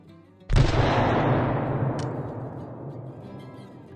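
A single sharp handgun shot cracks out at a mountain lion in the hunting game Call of the Wild, followed by a long rolling echo that fades over several seconds, loud and alone.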